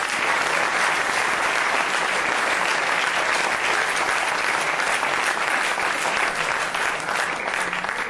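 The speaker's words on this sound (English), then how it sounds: "round of applause." A loud, sustained round of applause from a lecture audience, dense clapping that continues steadily throughout without pause.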